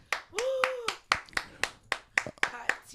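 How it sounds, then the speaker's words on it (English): An audience clapping for Cindy J's birthday at a comedy show, a few sharp, uneven claps spread across a couple of seconds, with a voice speaking over them. "Let's clap for that"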